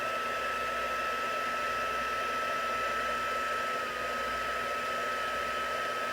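Crafting heat tool blowing hot air to warm metallic embossing powder on a handmade card, a loud, steady whooshing drone close by, unbroken throughout with no talking.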